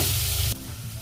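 Sliced onions sauté in a pan for chicken masala, giving a loud, close hiss of sizzling with stirring that drops abruptly to a quieter frying crackle halfway through.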